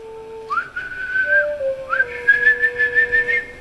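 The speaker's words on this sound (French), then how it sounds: "En ce moment précis, on entendit des sifflets." Two whistled calls ring out near and clear, each a rising then held tone, the second longer and warbling, with no voices around them.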